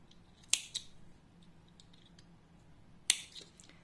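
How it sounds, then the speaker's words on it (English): Scissors cutting yarn while crocheting a mini Santa hat ornament: two crisp, close snips about two and a half seconds apart, the first followed by a faint click, over quiet room noise. "I will just cut the rest of the yarn."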